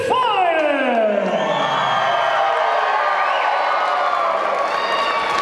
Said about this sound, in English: Listen to that ovation they get.